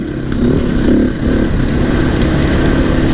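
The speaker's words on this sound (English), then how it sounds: "See some quite old bikes here." Old motorcycles ride past on a country road at a rally near Dargo, a loud, close engine drone swelling and fading with throaty pulses as bikes go by.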